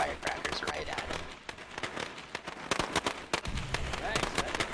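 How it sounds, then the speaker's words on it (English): Firecrackers bursting in the zombie survival video game State of Decay, thrown at an enemy hiding in a shed; a rapid string of sharp crackling pops runs throughout, with a voice talking over it. "I just threw the firecrackers right at him"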